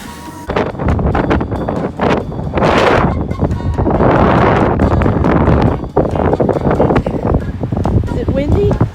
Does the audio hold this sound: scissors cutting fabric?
no